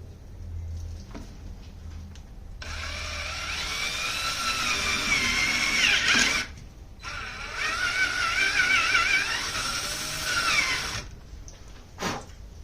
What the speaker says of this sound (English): I put a piece of wood underneath it to act as a backer that I can drill into